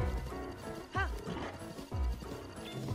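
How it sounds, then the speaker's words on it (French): Horse in the video game Zelda Breath of the Wild, heard as clip-clop hoofbeats with a short whinny near the middle, mixed with game music and effects. "le cheval est pas content."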